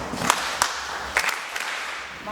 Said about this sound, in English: you're going to follow me with my hand claps